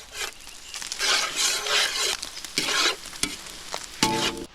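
Schezwan chicken fried rice being stirred and tossed in a hot pan with pepper, chili powder and chicken masala, steady sizzling broken by repeated scraping strokes of a spatula, close and loud, with a sharper metallic clank near the end.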